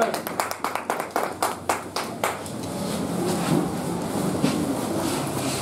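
Church congregation claps together in a rhythmic burst of applause during a French-language service, sharp claps in quick succession over the first half, then giving way to a dense, sustained wash of crowd noise and cheering.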